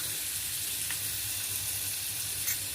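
Butter sizzles in a pan on a home stove as the first step of a roasted lotus seed (phool makhana) snack, a steady soft frying hiss with faint occasional pops, alone and fairly quiet throughout.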